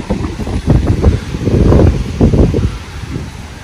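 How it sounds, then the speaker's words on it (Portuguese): Strong typhoon wind in Japan roars and gusts around a balcony, loud buffeting surges close to the microphone with rustling, and no one speaking. "O vento tá vindo lá do outro lado, lá na porta, lá de frente."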